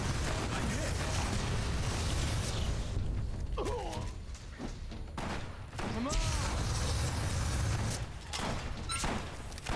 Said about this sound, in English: Yeah, the gunshot sounds like it's from right there.